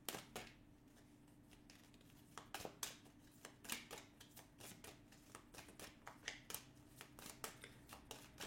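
Tarot cards being shuffled by hand, a close, quiet run of crisp riffling snaps and soft slaps in irregular bursts, with no talking over them.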